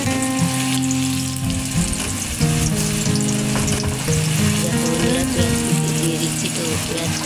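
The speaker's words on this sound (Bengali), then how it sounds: "বন্ধুরা, আমার তেলটা গরম হয়ে গেছে, এখন আমি দিয়ে দিচ্ছি তোমার পেঁয়াজ কুচি।" Chopped onion added to hot oil and frying in a pan while making chicken curry with yogurt; loud, dense, steady sizzling fills the whole clip, with a low tonal hum underneath.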